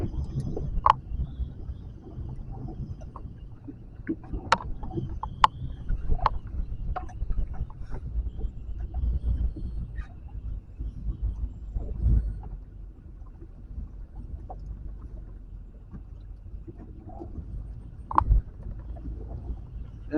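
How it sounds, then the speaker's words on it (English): Strong wind buffets a small fishing boat inshore off Panama City, a steady low roar with scattered knocks and thumps from the bouncing hull, with no voices. "That may be all you can hear now is the wind."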